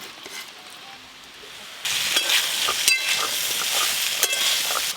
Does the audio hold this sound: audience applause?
no